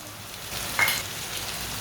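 Chopped tomato frying with browned onion in a pan, a soft continuous sizzle with a brief brighter hiss partway through, close and fairly quiet, with no voices.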